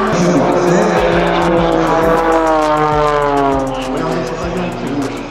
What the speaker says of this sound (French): va nous faire une petite démo de voltige avec son avion qui est juste en face là-bas